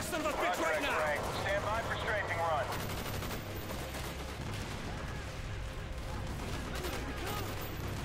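Strafing run in the Call of Duty Black Ops game, loud sustained rattling gunfire and rumbling blasts filling the whole span, with a voice calling out over the opening seconds.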